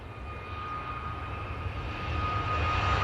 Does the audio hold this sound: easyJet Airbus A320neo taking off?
yes